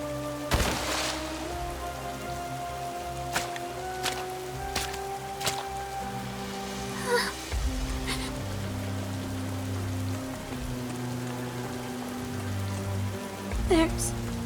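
Rain falls steadily in a video game scene, a soft continuous patter spread across the background, with occasional drips and a brief voice heard under the game music.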